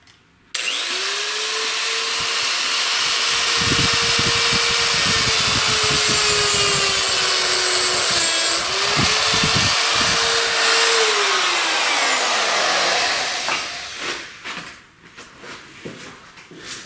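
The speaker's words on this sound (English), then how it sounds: "I'm just using the simple cutoff wheel, very similar to doing the stainless steel hoses" A cutoff wheel slices through thick battery cable, a loud continuous high-pitched whine with a grinding rasp that holds for about twelve seconds, dips in pitch under load, then winds down and stops, followed by faint clatter.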